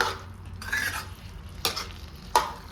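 Spatula scraping and stirring pav bhaji vegetables with masala in a hot pan, three distinct metallic scrapes over a low steady sizzle, close and clear.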